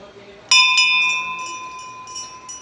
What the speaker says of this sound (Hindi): घंटी बजा लेते हैं एक बार।